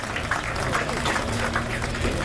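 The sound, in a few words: spectators applauding rallycross driver Davy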